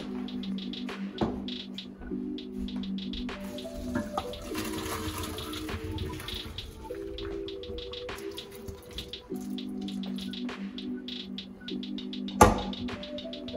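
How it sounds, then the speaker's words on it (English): Water from a sink tap runs and splashes steadily as cooked pasta is drained into a strainer, with a soft hiss of flowing water, a few clinks and a brief knock near the end, close by and without talk. "I'm gonna take it off of the fire and then strain it."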